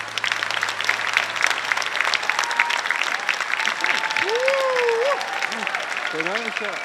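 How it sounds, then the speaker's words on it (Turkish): Steady audience applause rolls through a studio on a Turkish game show, with brief voices and an exclamation rising above the clapping near the end. "Evet bravo alkış."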